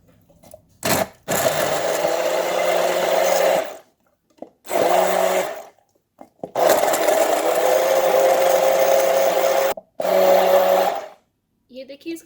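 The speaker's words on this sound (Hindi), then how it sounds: "अब इसको मैं अच्छे से ब्लेंड कर लेती हूँ।" A kitchen blender whirs in loud, close bursts as it purees banana, figs and milk into a shake, running in about four runs separated by short pauses.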